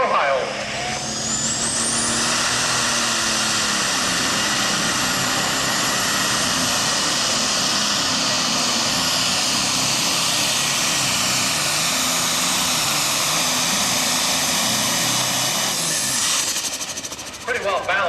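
A super stock diesel pulling tractor roars loud and close down a tractor-pull track at an NTPA Grand National event, a sustained hissing, turbine-like engine scream that holds steady for the full run before easing at the end.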